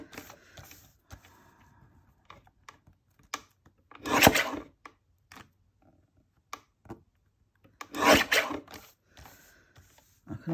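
Card stock is trimmed for handmade striped greeting cards, giving two loud, brief crisp cuts about four seconds apart, with faint small clicks and handling noises between them in a quiet room.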